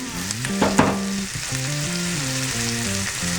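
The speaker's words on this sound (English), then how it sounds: "the steak is searing here in this nice butter bottom" A steak sears in butter in a hot pan, giving a loud, steady sizzle and crackle close up. A low tonal hum runs underneath and there is no talking.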